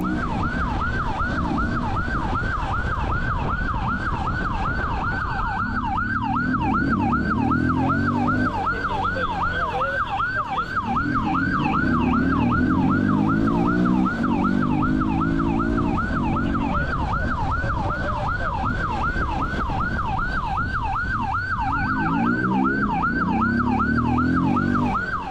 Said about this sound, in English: Sirens ripped through the air